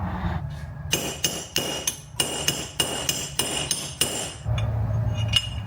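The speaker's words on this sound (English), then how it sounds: "I think one good whack with a punch, and that should come out" A hammer strikes a punch to drive out a stuck bolt on a classic Mercedes van, about ten sharp metallic blows in an uneven rhythm, close and loud.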